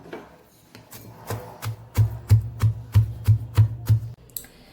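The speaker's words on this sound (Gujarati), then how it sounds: "હવે આપણે એને દસ્તા વડે ખાંડી લેશું।" A pestle pounds cumin, salt and other ingredients for a Kathiyawadi chutney in a mortar: about a dozen dull, thudding strikes in a steady rhythm that grow louder and more regular, then stop.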